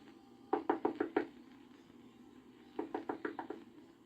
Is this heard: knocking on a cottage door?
yes